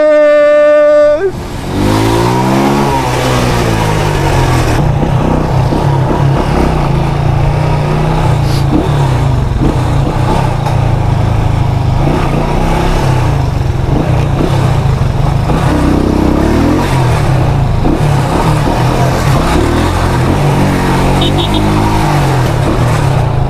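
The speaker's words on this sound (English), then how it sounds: "Brother, the traffic thick." A motorcycle with wide handlebars rides through heavy traffic in Half Way Tree, Jamaica, its loud engine close and droning throughout, revving up and down, with the low rumble of surrounding vehicles beneath it.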